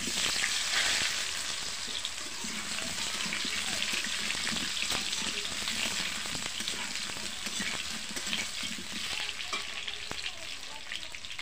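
Potatoes dropped into hot oil in a wok, a loud, dense, continuous sizzle and crackle that stays steady throughout with no voices.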